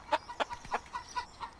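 A chicken in the Bear Simulator video game clucks in a quick series of about seven short, fairly loud clucks, heard alone without speech.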